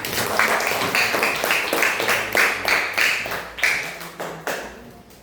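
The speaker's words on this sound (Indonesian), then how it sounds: "Beri tepuk tangan anak-anak" Children in a classroom clap their hands in a loose, rhythmic burst of repeated hand claps, fairly close and moderately loud, with no talk over it.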